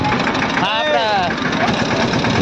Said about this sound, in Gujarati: ટ્રેક્ટર હાંકી રહ્યા છે અને ટ્રેક્ટરમાં બહુ રોદા બહુ મારે છે